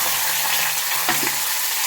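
Bitter gourd curry being stirred in a hot pan, a dense sizzling fry hiss with light scraping strokes of the spoon close up, steady and unbroken.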